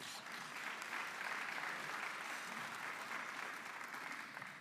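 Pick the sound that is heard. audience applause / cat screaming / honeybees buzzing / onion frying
audience applause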